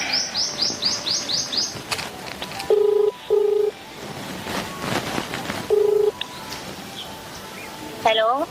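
Several short, evenly pitched phone dialing tones beep in quick succession, mixed with chirpy bird-like electronic sounds and a brief stretch of talk.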